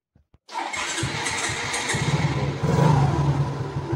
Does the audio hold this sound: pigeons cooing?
no